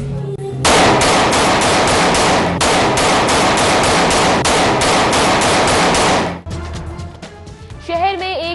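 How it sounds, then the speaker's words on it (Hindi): Rapid bursts of aerial gunfire, shots fired into the air in a city, crackle loud and close in a dense continuous volley for about six seconds before cutting off into quieter background sound and a brief voice. "शहर में एक के बाद एक हवाई फायरिंग का वाकया"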